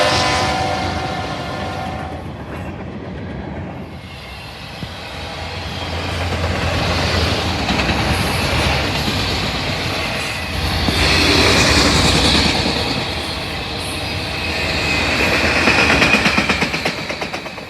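A freight train hauled by an SD70M locomotive with a string of coal hoppers at the front rolls past, a loud, sustained rumble of engine and wagons swelling and fading over many seconds with no talking.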